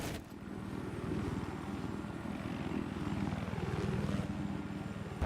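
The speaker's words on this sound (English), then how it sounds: "who's just going to be carefully scouting out the region with the scout helicopter" Scout helicopter in a multiplayer war video game, a steady, close rotor thrum with a chopping pulse and engine drone, holding level throughout with a slight pitch sweep partway.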